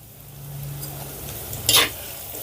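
Sliced onions and curry leaves fry in oil for a stuffed brinjal masala curry, a soft steady sizzle with one brief sharp clink of a utensil against the pan.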